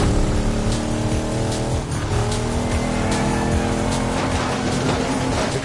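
Race cars in a video game roar steadily at high revs, with tires squealing and skidding through a continuous, loud engine drone and no talking.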